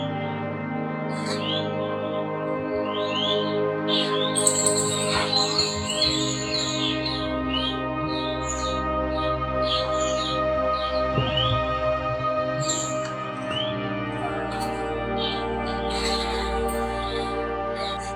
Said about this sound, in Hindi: ये पक्षियों के लिए रखा गया है पानी इस तरह से क्योंकि वन में पक्षी बहुत है।